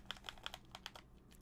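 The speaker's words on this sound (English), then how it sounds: "all I hear is my buttons clicking" Game controller buttons pressed quickly while playing God of War: Ascension, a faint series of sharp plastic clicks in an uneven burst, close by and alone.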